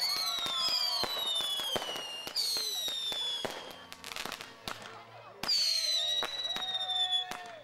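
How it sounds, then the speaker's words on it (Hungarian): Fireworks closing an evening parade burst and crackle repeatedly, with sharp bangs and whistling rockets rising and falling, loud and continuous. "Az esti felvonulást látványos tűzijáték zárta."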